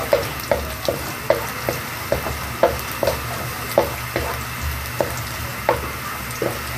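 Ginger and garlic fry in a home-cooking pan with a steady sizzle, punctuated by regular scraping stirs about every half second, close and fairly loud.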